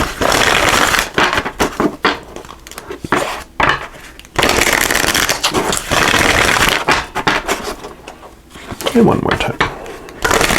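Path of the Soul Destiny oracle cards shuffled and riffled in several loud close bursts, broken by pauses, with a person speaking briefly between them.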